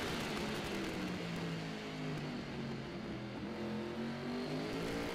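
Superbike engines rev at the start of an AFM open superbike race, a dense, sustained roar of several bikes at once with rising and falling engine tones, fairly distant.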